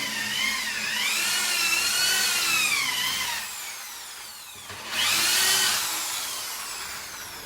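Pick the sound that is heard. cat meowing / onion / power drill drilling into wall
power drill drilling into wall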